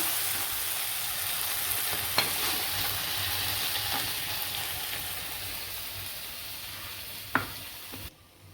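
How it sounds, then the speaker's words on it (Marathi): Green tomato thecha frying in oil in a pan, a steady soft sizzle running throughout with a few faint clinks of stirring, fairly close and without voices. "आपला ठेचा मस्त तळून झालेला आहे बघा"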